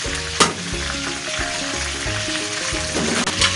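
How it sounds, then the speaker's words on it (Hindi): Cardamom pods fry in hot oil for chicken handi, making a loud, continuous sizzle with a sharp crackle near the start and another near the end, and no voices. "1 मिनट के लिए इलायची को भूनना है।"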